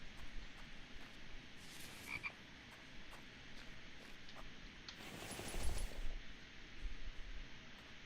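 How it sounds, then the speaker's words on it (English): Frog croaking in a survival game setting, a steady rattling chorus of croaks under a constant hiss of ambient noise, with a brighter burst midway, moderately distant. "I heard a frog."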